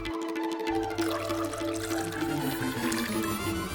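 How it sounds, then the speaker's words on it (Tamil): Liquid pours steadily into a glass indoors, a continuous gurgling stream with a gradually shifting pitch as it fills, set against background music with no voices. "பத்தாது, இன்னும் கொஞ்சம் ஊத்துவோம்."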